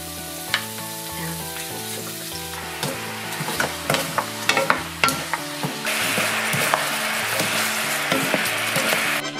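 Tteokbokki stirred and cooking in a pan, with a continuous sizzle under repeated knocks and scrapes of a utensil, growing denser toward the end; no speech.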